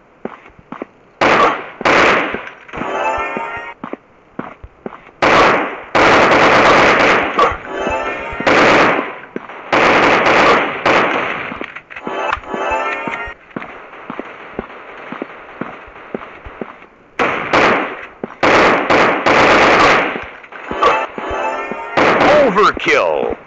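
Gunfire in an FPS commando shooting video game: loud bursts of rapid automatic shots and single blasts in clustered volleys with short gaps, alongside in-game voice callouts.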